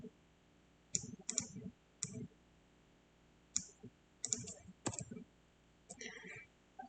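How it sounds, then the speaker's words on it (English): A computer mouse clicks in scattered short taps, some single and some in quick pairs, close but faint against a quiet room, with a voice speaking softly in between. "Then I'm just going to hover over this and click it."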